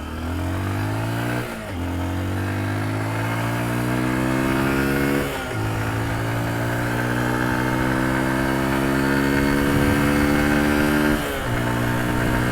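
A Honda XR150L dual-sport motorcycle climbs a slight uphill road, its single-cylinder engine revving up through each gear, with several distinct pauses at the gear shifts before the steady rising drone resumes.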